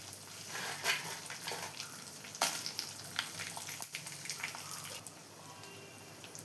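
Mustard seeds, cumin and dried red chillies fry in hot oil for a ginger pickle, giving a soft, busy crackle with a few sharper pops and spits. Faint, with no talking.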